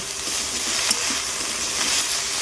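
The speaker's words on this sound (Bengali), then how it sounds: "অল্প একটু তেল দিয়ে বেগুনগুলোকে একটু লাল লাল করে ভেজে নেব" Eggplant strips crackle and sizzle in shallow oil in a wok, a moderately loud, even frying hiss with faint stirring bumps throughout, close up and without speech.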